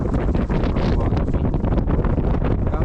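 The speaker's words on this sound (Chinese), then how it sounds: "你看还在刮着风呢，因为海拔高啊，这个风也比较大，呼呼呼的" Strong high-altitude winter wind buffets the microphone in a continuous loud roar with gusty surges, near and steady throughout, no speech.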